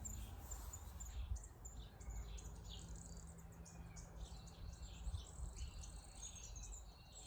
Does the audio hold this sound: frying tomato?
no